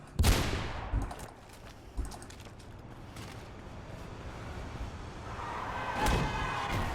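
Gunfire in the Mirror's Edge video game: a sharp shot opens, with a few fainter bursts after it and another crack near the end, over a low, steady rumble.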